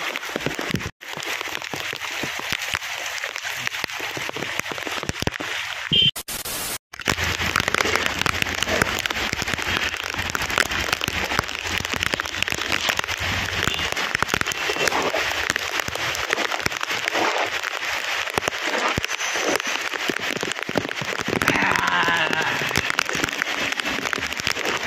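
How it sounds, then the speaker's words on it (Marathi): Heavy morning rain pouring down where water has pooled, a dense continuous hiss of falling drops with brief dropouts near the start. "पाऊस पाऊस पाऊस पाऊस पूर्ण पाऊस पाऊस पाऊस फक्त पाऊस."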